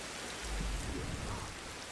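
Steady rain falls in the video game Ancestors: The Humankind Odyssey, a dense continuous hiss of drops with some low rumble underneath, no voices.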